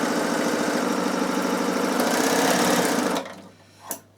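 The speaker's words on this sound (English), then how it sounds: "Really good having a sew table on the overlocker." A Bernina overlocker stitches along a linen pillowcase at a fast, steady whir for about three seconds, close and loud, then stops; a brief click follows in the quiet.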